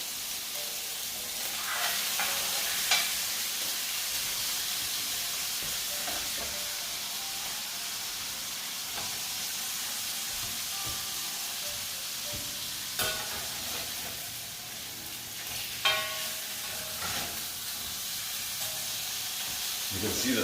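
Garlic and turmeric sizzle in a hot cast iron pan, a steady close hissing fry with occasional stirring clatter and bursts of louder spitting.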